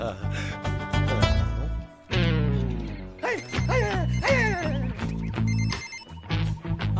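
A telephone rings in a Pakistani film scene, its ringing tones repeating over several seconds alongside voices and tonal background music.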